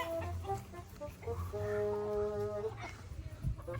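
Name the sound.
chicken clucking while being caught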